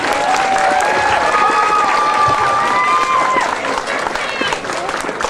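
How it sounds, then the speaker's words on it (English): Loud crowd applause at a small-town pageant coronation for six candidates, continuous clapping mixed with cheering and whistles throughout. "Let's have another round of applause for our 6 beautiful candidates."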